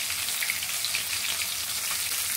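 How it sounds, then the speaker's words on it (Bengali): Pieces of spiny gourd (kakrol) fry in hot oil until reddish, giving a steady, dense crackling sizzle with faint scattered pops and no voices. "এখন দিয়ে দিব এটার মধ্যে আমি কাঁকরোলগুলো লাল লাল করে ভেজে নিব।"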